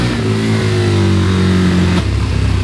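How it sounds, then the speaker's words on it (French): A KTM 1290 Super Adventure S motorcycle engine revs loud and close, pitch climbing steadily as it accelerates, then dropping abruptly to a lower throbbing note near the end. "Regarde la moto comment elle marche."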